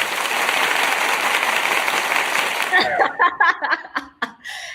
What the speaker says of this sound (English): it's time to hear some clap as well